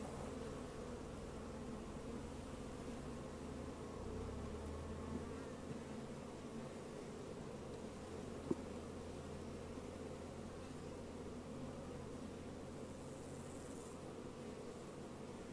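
Honeybees swarm and drone steadily around a queenless beehive on a Portuguese farm, a dense close buzzing that holds unbroken for the whole stretch with no voices.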